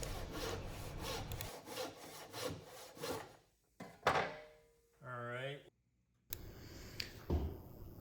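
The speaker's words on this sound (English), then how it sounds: "You'll see the saw jumps around a little bit here starting this cut." A hand saw rasps through wood in quick, rhythmic back-and-forth strokes, jumping slightly at the start of the cut, then stops, followed by a few brief knocks and other noises.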